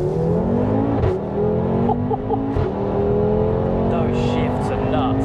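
A tuned Audi RS3 8P with a stage 3 gearbox map and a loud aftermarket exhaust accelerates hard, its engine note rising and snapping through quick gear shifts with sharp breaks, while people talk over it.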